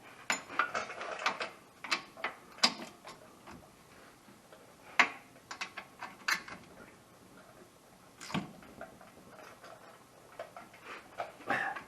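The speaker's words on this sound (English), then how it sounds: "Okay, I'm just tightening these up now." A ratchet tightens bolts during rear seal work on a 2014 Yamaha Viking, giving quiet, irregular runs of sharp metallic clicks with short pauses between strokes.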